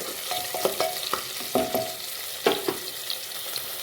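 Onions frying in a pan for biryani, a continuous sizzle broken by several distinct scraping stirs of a utensil against the pan, close and clear with no talking.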